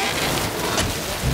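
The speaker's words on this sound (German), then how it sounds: "Aber es regnet." Steady rain falls heavily in a short burst, a dense hiss of drops with low rumbling underneath and no voices.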